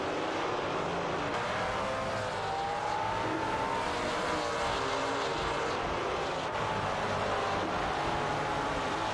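Race cars in a sim racing video game, including an Aston Martin Vantage GT4 and KTM X-Bow GT4, roar steadily with a sustained engine drone and shifting tones throughout, fairly loud and without talk.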